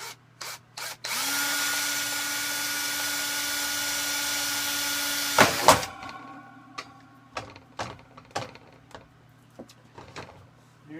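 A power drill with a small bit bores into a thick plastic Bootstrap Farmer seed-starting tray, whining steadily for several seconds before stopping abruptly, followed by a series of sharp clicks and knocks from handling the tray.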